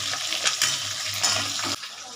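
Pieces of katla fish frying in oil with a constant sizzle, broken by a few soft scraping stirs before the sound drops off near the end.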